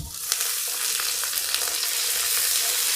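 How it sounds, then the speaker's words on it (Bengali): Onion paste fries in oil for a Bengali spiced egg curry, giving a loud, continuous close-up sizzle with faint stirring scrapes and no voices. "এবার আমরা একটা পেঁয়াজ বাটা দিয়ে দিচ্ছি।"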